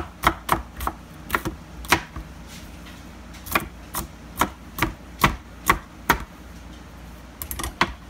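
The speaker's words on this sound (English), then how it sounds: "chop that up" Knife strikes through bell pepper onto a cutting board in an irregular series of sharp chops, some spaced out and a quick cluster near the end, close and clear with no talk.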